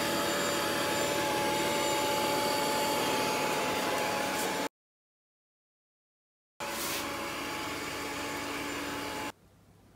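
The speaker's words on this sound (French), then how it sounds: "Et ça tourne autour de l'aspirateur" A robot vacuum cleaner hums steadily across a kitchen floor, cutting out abruptly for a couple of seconds before resuming, with no talk over it.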